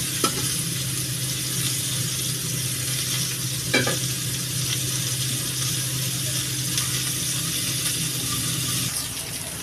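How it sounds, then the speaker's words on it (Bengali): Pointed gourd (potol) frying in oil in a pan, a loud continuous sizzle with the scrape and clatter of stirring throughout, a couple of sharper knocks standing out. "ভালো করে ভাজা ভাজা করে নেবো পটলটা কাঁচা গন্ধ যাবে"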